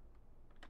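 Computer keyboard typed on briefly for a command, a few soft, close key clicks over a quiet room hum.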